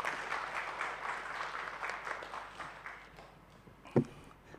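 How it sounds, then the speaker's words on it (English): Applause from an audience welcoming a speaker at a talk, a soft, steady patter of many hands heard from a distance that slowly tapers off, with one louder thump near the end. "Let's please give him a warm round of applause."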